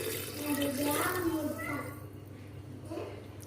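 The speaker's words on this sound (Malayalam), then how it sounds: "ഉപ്പിട്ട് തിളപ്പിച്ചാറിയ വെള്ളം അത് ഇതിലോട്ട് ഒഴിച്ചു കൊടുക്കുക" Boiled salted water poured over mangoes in a jar while pickling them, a steady close trickle and splash under a person talking.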